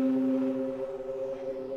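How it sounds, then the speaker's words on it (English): Electronic space music coded in Sonic Pi, with samples, rests and notes, heard here as a quiet sustained tonal drone with steady layered pitches, soft and smooth throughout this short stretch. "Yeah, epically cool space music."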